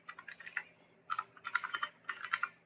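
Quick bursts of typing on a computer keyboard into a Notepad text file, clusters of light clicky keystrokes separated by brief pauses, close and fairly quiet.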